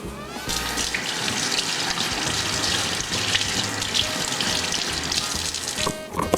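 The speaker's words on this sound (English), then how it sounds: "Now I'm going to wash my hands." Tap water running steadily into a sink during handwashing while cooking a pork roast, a continuous close splashing rush with no talking.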